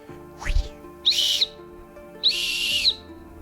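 Two loud, rising high-pitched turbo whistles on a straight-piped 2002 Honda Civic, like a turbo spooling, each lasting about half a second, after a brief low thump.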